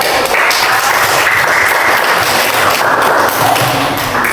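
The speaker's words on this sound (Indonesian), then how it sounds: "Kita berikan tepuk tangan." Dense, continuous applause from a classroom of students clapping their hands together, loud and close, a steady wash of many overlapping claps throughout.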